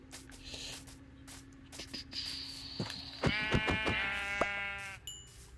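Sheep bleating in the video game Minecraft, a few drawn-out, wavering bleats close by after some softer clicks and thuds, with a steady low game hum underneath.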